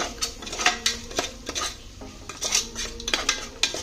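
A spoon stirs jackfruit curry in a metal pot after salt is added, with repeated quick scraping and clinking strokes against the pot in an uneven rhythm, close and fairly loud, with no talking.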